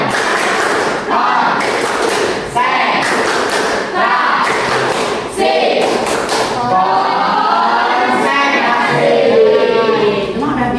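Classroom of pupils doing a rhythmic concentration clap pattern, sharp sets of claps and taps in bursts, close and loud, with children's voices chanting and talking between them.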